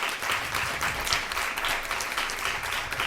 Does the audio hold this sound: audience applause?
yes